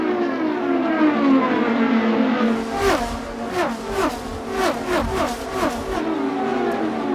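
IndyCar race cars accelerate hard on a restart at the Indianapolis 500, several high-pitched engines rising and shifting one after another as they pass, loud and overlapping, with a steady rush of engine noise beneath.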